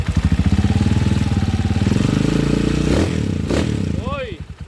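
A TMX155 motorcycle engine converted to 210cc with a Motor Star 175 fake four-valve cylinder head idles with a steady loud chugging, then revs in two sharp bursts and drops back, close by and alone.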